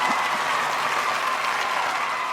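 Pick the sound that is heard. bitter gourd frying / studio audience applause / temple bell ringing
studio audience applause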